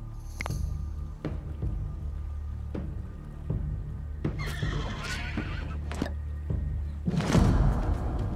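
A donkey brays in the prehistoric survival game Dawn of Man: a harsh, whinny-like call at the start and a louder one near the end, with scattered thuds and clopping in between.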